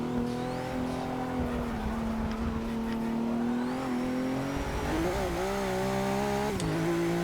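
A race car engine in Forza Motorsport 6 drones loudly and steadily, its pitch rising and dipping through gear changes with a sharp upward sweep near the end, no voices over it.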